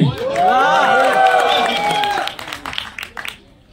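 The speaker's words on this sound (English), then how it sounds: "The loudest round of applause" A crowd at a film trailer launch event in Mumbai roars with loud whoops and cheers over clapping, then thins into scattered claps and a few shouts near the end.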